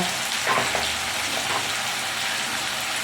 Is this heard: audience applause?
no